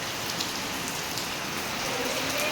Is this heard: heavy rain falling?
yes